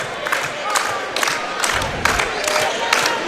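A basketball crowd cheers and roars in an indoor college hall during an Elmhurst versus Hope game. Repeated swells of shouting and whooping rise over a steady crowd murmur.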